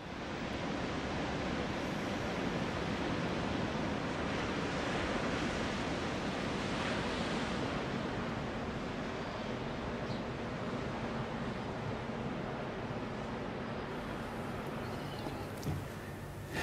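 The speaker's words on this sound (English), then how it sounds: "living by the side of the sea where the waves would roll and rock" Sea waves roll and break in a steady, dense wash of surf that fills the whole stretch at a constant level, with wind-like hiss and no voices.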